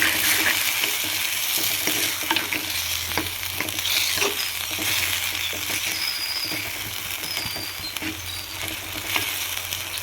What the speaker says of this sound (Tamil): கொஞ்சம் நேரம் உருளைக்கிழங்கு குக்காகட்டும்.